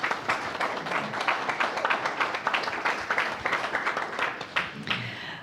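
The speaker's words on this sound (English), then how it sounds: "Can we give him another round of applause?" A church congregation applauds Rev Ken at a Sunday service, a steady round of many hands clapping together with a few voices rising faintly beneath it.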